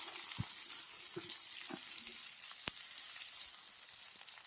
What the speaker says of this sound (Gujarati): ઘીના અંદર સરસ સોતે કરી દઈશું આપણે કોર્નને